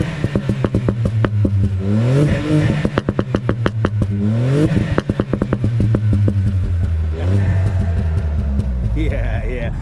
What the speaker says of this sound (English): But let's hear this car now.